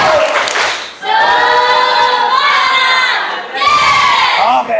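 A class of schoolchildren performs a rhythmic clap-and-shout cheer together in a classroom, loud massed young voices chanting in bursts with a short break, close and energetic.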